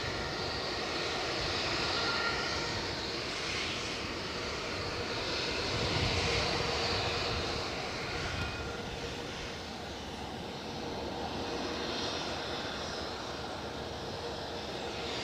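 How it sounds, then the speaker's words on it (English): At Edinburgh Airport, a British Airways Airbus A319 jet bound for Heathrow passes with a sustained engine din, and an ATR aircraft follows behind it. The roar rises and falls gently in waves and stays fairly distant, with no talking. "The din you can hear is British Airways being followed by an ATR"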